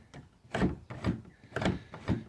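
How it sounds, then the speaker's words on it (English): A Lifetime vertical storage shed door being shut and latched, four distinct thumping knocks in a fairly even rhythm, close and moderately loud, with no voices. "Alright, so the door latches up nicely."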